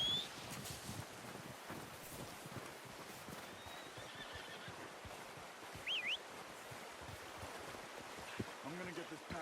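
A horse in Red Dead Redemption 2 whinnies and hooves clip-clop over soft rushing water, with a constant wash of ambient noise beneath.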